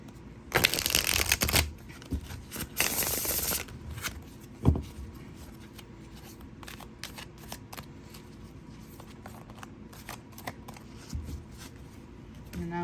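A tarot card deck stripped and shuffled by hand gives two close, loud bursts of rapid papery riffling. Quieter card handling and soft taps follow, with no talking.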